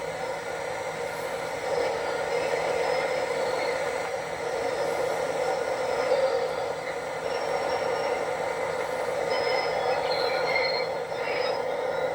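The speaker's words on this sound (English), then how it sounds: "With the main line momentarily still, an END GP38 switches empty cars in the yard" Florida East Coast GP38 locomotive switching empty freight cars in a rail yard near Miami, a steady continuous rumble with faint metallic wheel squeal, moderately distant and without voices.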